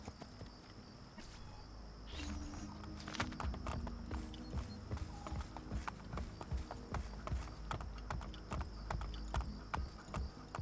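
Horse hooves clip-clop in a steady trotting rhythm while riding in Assassin's Creed Brotherhood, with a brief whinny and chirping crickets in the quiet background.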